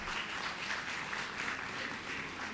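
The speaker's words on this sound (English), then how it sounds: "a round of applause please" Sustained applause from an audience at a fertility enhancement conference inauguration, a dense steady wash of many hands clapping, moderately distant and unbroken throughout.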